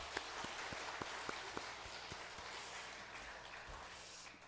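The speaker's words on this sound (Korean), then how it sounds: "다시 한번 큰 박수로 감사드립니다." A church congregation at a Sunday service claps steadily in a broad wash of applause, with distinct individual claps standing out near the start and the sound tapering at the end.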